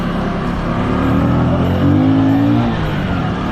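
A Bajaj Boxer 150 motorcycle, 2025 model, accelerating uphill: a loud, steady engine drone whose pitch climbs as it revs, with strong wind and road rumble, heard up close.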